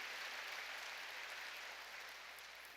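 A church congregation applauds during a worship service, a steady wash of clapping heard faint and distant, holding evenly and easing slightly at the end.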